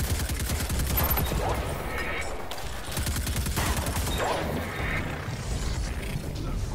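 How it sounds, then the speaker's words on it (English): Video game gunfire in bursts of rapid automatic shots, loud and close, separated by short pauses with grunts and other game effects. "I'll shoot the one on the left, you shoot the other one."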